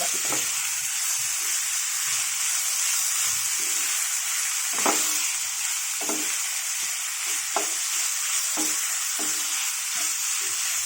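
Potato pieces fry in a pan with a constant bright sizzle, broken by occasional soft scraping as they are stirred.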